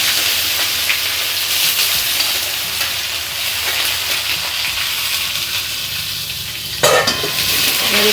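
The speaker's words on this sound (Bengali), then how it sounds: "এবার পেঁয়াজ কুচি দিয়ে দিলাম।" Chopped onion with cloves, bay leaf, cardamom and chilli fries in a pan for a mutton dish, giving a loud, steady sizzle with stirring scrapes and a brief burst of crackle near the end.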